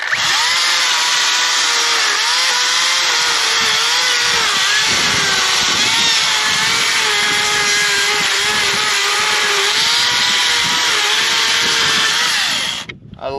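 Power saw cutting juniper firewood into manageable chunks, a loud, steady, close motor whine that holds for over twelve seconds under load before stopping abruptly.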